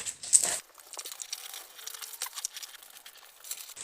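A paper shape being cut out by hand: crisp crinkles and snips of paper close up, with a sharp rustle at the start and small irregular cuts and rustles after, no talking.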